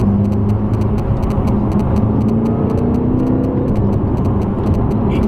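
A 2017 BMW M6 on narrow roads, its engine droning steadily from inside the cabin with low road rumble and a rising pitch as it pulls, with no talk over it.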